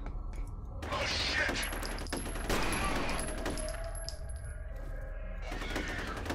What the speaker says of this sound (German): ich verballer, glaube ich, ziemlich viel Muni gerade